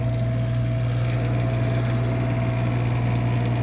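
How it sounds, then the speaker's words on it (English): Onan 8K generator running in a Newmar Ventana RV, giving a steady, loud, unchanging mechanical drone with a constant low hum throughout and no talk. "We have our 8K Onan generator."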